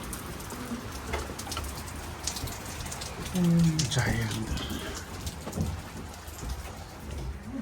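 Heavy rain pours steadily in Derby, a dense hiss of drops hitting nearby surfaces with occasional louder spatters, while people talk briefly over it and a low rumble swells midway.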